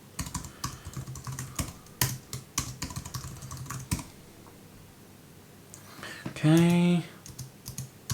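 Computer keyboard keys tapped in quick bursts while a password is entered during a smart home camera setup, close and clear; a brief spoken word comes near the end.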